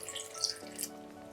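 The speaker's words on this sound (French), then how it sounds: "Ensuite, je vais rajouter un peu d'eau." Water pours briefly into a blender jug for a protein smoothie, a short close trickle and splash that shifts pitch as the level rises.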